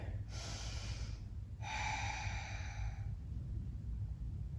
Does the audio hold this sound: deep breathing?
yes